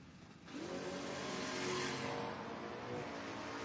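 Door-class drag racing cars launching at the strip during the FRBR Door Wars, a loud engine roar rising abruptly after a short quiet lead-in and holding steady, near and powerful with no talk.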